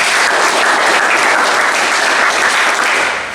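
Sustained applause from a classroom audience at a group presentation, loud and dense, clapping throughout before tapering slightly at the end, with no talk over it.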